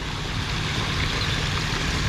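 Water spills over a lowered backyard pond waterfall spillway built with aqua blocks, giving a steady, close, full rushing wash with no talking.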